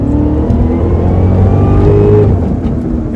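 A Cadillac CTS-V sports sedan engine drones loudly and steadily close by as the car accelerates hard, its pitch rising smoothly under continuous throttle.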